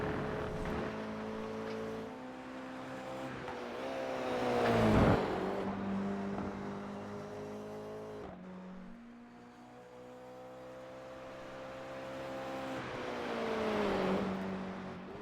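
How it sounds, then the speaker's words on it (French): Toyota GR86 race cars in a one-make cup race on a track, engines droning and rising as they pass, with several swells of revving and Doppler sweeps over about fifteen seconds and no talk. "Et Monsieur Mirino ici avec ses couleurs Ferrari dans sa petite Toyota GR 86"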